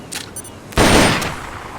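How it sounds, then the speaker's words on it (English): Weapon fire during shooting practice in a Metal Gear video game: a loud burst of gunfire erupts about three-quarters in and trails off, following quieter game effects. "Select a target and squeeze off a round or two."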